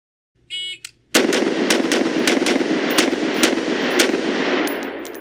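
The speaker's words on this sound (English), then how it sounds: "So when I shoot 3 targets, it should sound like I'm shooting 1 target." Rapid gunfire at three shooting targets rings out as a fast, continuous string of sharp close cracks over several seconds, preceded by a brief electronic beep, with no talking.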